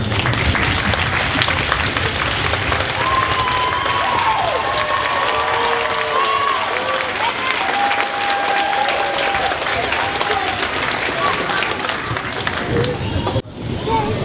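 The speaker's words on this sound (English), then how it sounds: "please give a big round of applause" A big commencement crowd at a community college graduation gives a long, loud round of applause with cheers and murmured babble, a steady roar of clapping that runs on for many seconds.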